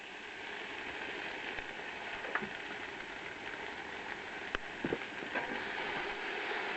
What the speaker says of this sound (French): Je vais rajouter mes oignons que je vais faire frire avec.